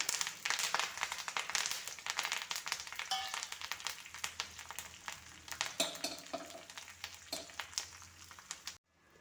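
Red chillies and curry leaves crackle and sizzle vigorously in hot oil for a papaya curry tempering, with busy popping spatters throughout before the sound cuts off abruptly.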